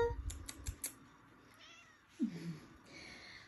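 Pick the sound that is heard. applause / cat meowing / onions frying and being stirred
cat meowing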